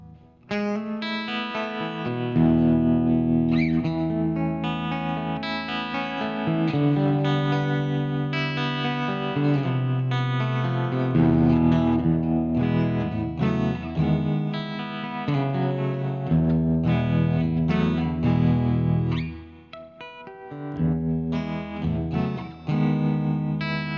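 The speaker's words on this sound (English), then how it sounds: "Here's how the tremolo sounds." Electric guitar chords through a hand-wired Fender Princeton-circuit amp with its pulsing tremolo effect, warm and reverberant, playing continuously for over twenty seconds.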